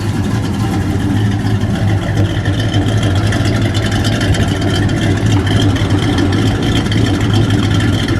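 A 340 V8 engine in a 1970 Dodge Dart Swinger runs loudly and steadily, a deep continuous rumble with no voices over it.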